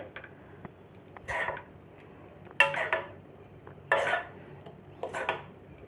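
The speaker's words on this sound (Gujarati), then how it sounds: "બધું એકદમ સરસ મિક્સ કરી લઈશું આપણે" Stirring tempering into soft Korean chilli garlic potato noodles, with four separate bursts of utensil scraping and clinking against a pan or bowl, close and moderately loud over a quiet background.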